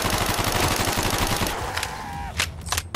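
MP40 submachine gun fire in a Call of Duty custom zombies map: loud, rapid automatic bursts that rattle on for about two seconds, then break into a few separate shots.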